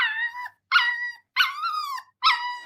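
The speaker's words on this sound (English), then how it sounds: "But since he couldn't talk, he just yelped." A puppy yelping in four drawn-out, high whining cries separated by short silences, loud and close with no other sounds around them.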